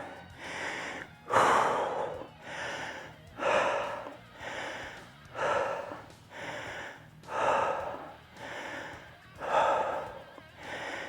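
Heavy, rhythmic breathing, each loud exhale or gasp coming about once a second, close to the microphone, with no talking.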